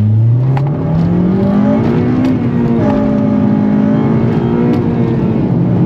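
An 8th-generation Honda Civic Si's naturally aspirated four-cylinder engine revs hard through a loud full race exhaust, pitch climbing steadily then holding at a high drone, close and continuous with no talking.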